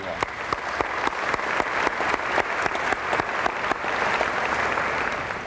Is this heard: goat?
no